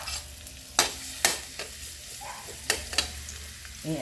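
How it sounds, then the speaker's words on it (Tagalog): Garlic sautés in a pan over medium heat, a low steady sizzle punctuated by several sharp scraping and clattering strokes of a utensil stirring, close up and without talk. "Igisa na natin itong mga sangkap. Itong garlic. Nasa medium heat lang tayo"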